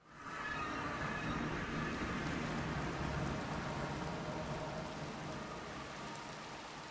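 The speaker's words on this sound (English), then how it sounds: "And it's raining again." Minecraft rain fades in and settles into a steady broadband hiss of falling drops that holds throughout, fairly loud and with no talk over it.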